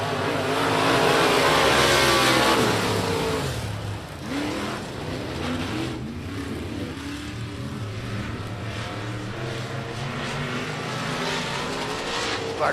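Winged modified race cars roar off the start at Big O Speedway, a loud, dense pack of engines revving hard and sustained, with the full field accelerating together close by.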